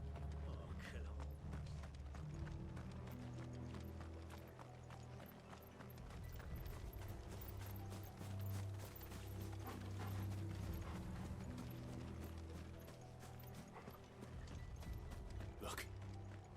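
Horses galloping in Final Fantasy XVI: a steady, rapid clip-clop of hooves with mechanical creaks and rattles running throughout, moderately loud, with faint voices in the mix.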